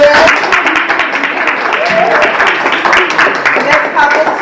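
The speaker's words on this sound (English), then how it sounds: "let's clap that audience." Quiz-event audience applauding, a dense, steady patter of many hands clapping close by for several seconds, with a few voices mixed in.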